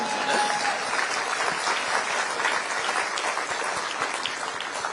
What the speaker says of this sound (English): That's right, you should clap.